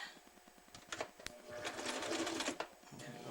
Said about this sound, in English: I'm going to backtrack with the wobble stitch.